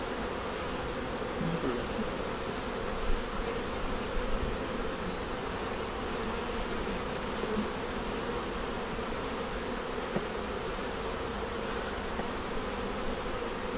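Honey bees buzz steadily around a busy beehive during a nectar flow, a dense, continuous drone with no talk that holds close and even for the whole stretch.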